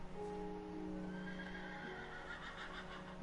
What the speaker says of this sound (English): Come on, horse.